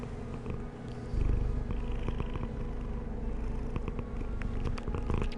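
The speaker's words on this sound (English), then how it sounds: "We got cat purrs on stream." A female cat purrs right up against the microphone, a loud, steady, low rumbling with a rhythmic pulse that carries on without pause and with no voices over it.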